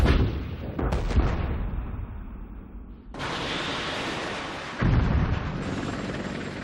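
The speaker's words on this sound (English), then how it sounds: "Arm this missile, I'll shoot it down range." A missile fired down range on a desert battlefield roars loudly, with an opening blast, a sustained rushing roar that swells, and a second surge partway through.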